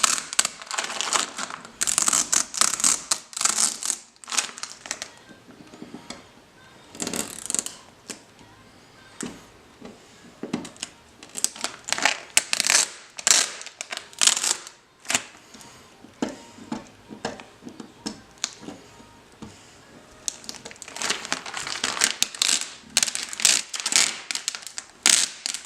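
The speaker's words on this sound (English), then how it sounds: "Peel back on itself like that, like pull all the way back." Backing being peeled off a windshield decal sticker, with long stretches of close crinkling, crackling and tearing-like rustle that rise and fall, louder at the start and end with quieter patches between.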